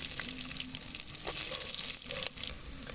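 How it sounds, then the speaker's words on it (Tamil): Onion and green chili hit hot sesame oil with fenugreek for a village-style fish head curry, giving a soft close sizzle with a few stirring scrapes and clinks over three seconds, no voices. "இதோட வெங்காயம் பச்சை மிளகாய் போட்டுக்கலாம்"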